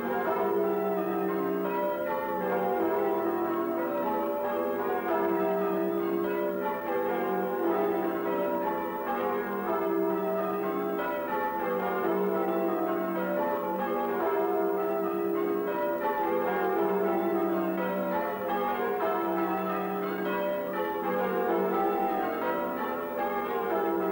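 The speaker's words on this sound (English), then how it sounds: "in the Great West Tower is a peal of 8 bells" A peal of eight bells rings from the Great West Tower of St James church in the Cotswolds, an even, continuous stream of overlapping strikes heard from a distance.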